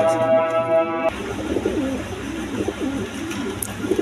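Pigeons coo in low, repeated throaty murmurs close by at a pigeon sale, following a brief steady tone at the start, with faint background noise throughout.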